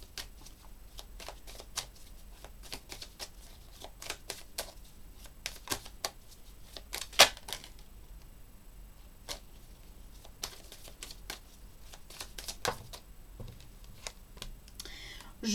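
Tarot cards being shuffled in repeated short riffling bursts, soft and close, with brief quiet gaps between handfuls and a sharper snap partway through.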